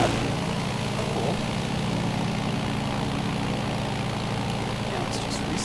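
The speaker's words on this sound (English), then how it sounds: "They actually modeled the engine." A modeled aircraft engine from Microsoft Flight Simulator drones loudly and steadily, a dense close-up rumble with a constant low throb and no gaps.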